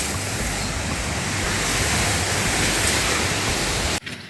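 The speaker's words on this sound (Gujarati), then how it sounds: "જબરજસ્ત પવન ફૂંકાઈ રહ્યો છે." Strong wind at a night campsite in a jungle, a loud continuous roar buffeting the microphone for about four seconds before it suddenly drops away.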